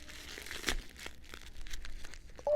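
Crinkling and tearing of a wrapped yarn advent calendar package as it is opened, a sharp crunchy rip standing out amid softer rustling, close and moderately loud.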